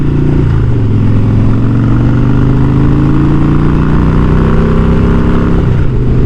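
A Harley-Davidson motorcycle engine idles nearby with a deep, steady, loping chop-chop rumble that holds even throughout, loud and close.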